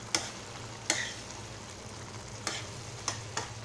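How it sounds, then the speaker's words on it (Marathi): Ghee-roasted semolina (rava) stirred in a pan for upma, with soft sizzling throughout and a few sharp clicks of the spoon against the pan at irregular intervals, no talking. "आता व्यवस्थित ढवळून घेणार आहे"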